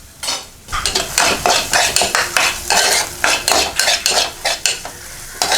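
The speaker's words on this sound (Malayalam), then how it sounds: "നന്നായിട്ട് ഇളക്കി കൊടുക്കുക." A spoon stirs fennel and spices frying in a pan for kadala curry, with rhythmic scraping strokes repeating close up over a steady sizzle.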